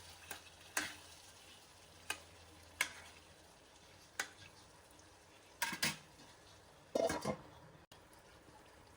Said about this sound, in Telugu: టమాటాలు కూడా వేసుకొని ఒకసారి కలిపేసి ఇంకో 5 నిమిషాలు మూత పెట్టుకొని టమాటాలు మెత్తపడేదాకా మగ్గించుకుందాం